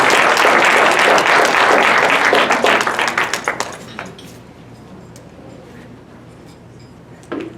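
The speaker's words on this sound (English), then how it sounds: "let's receive Brother Brett with a round of applause" Audience applause at an annual award banquet, loud dense clapping for about four seconds that thins and fades into a quiet room with faint clinks of dishes and cutlery.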